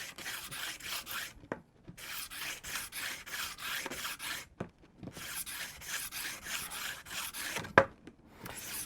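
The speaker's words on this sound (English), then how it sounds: "60 grit to really dig in and create some nice grooves. And then just rotating the pipe as I sand along." Coarse 60 grit sandpaper rubs back and forth over a PVC pipe as it is rotated, a close, harsh rasping in steady strokes broken by brief pauses.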